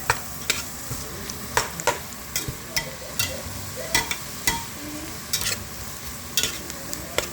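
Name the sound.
garlic, leeks and onions sautéing in butter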